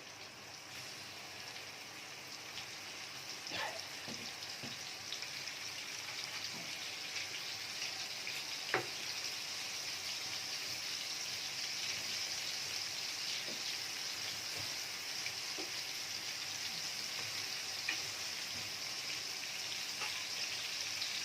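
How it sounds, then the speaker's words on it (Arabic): Beef slices sautéing in fat in a pan, a steady close hiss of sizzling with scattered small pops and crackles throughout, no voices. "اول حاجه اللحمه هتتشوح، هنديها بس لون كده"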